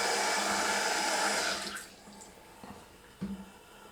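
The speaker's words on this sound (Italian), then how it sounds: "E nel frattempo mettiamo anche un po' d'acqua" Running water pours steadily for a moment while water is added to a tub of shaving soap for a wet shave, then stops, followed by a couple of soft knocks.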